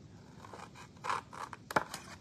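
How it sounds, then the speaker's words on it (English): Scissors snip through designer series paper, cutting out the corners of a gift-wrapping piece: several short, close crisp cuts with papery scraping, the last snip sharpest, with no talk. "cut out the corners here."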